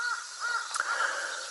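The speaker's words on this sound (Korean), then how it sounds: "가만히 들어보면 닭 우는 소리도 여러가지." A chicken calling in a sustained, slightly wavering cry, fairly close and clear against quiet surroundings, holding one drawn-out note with a brief break partway through.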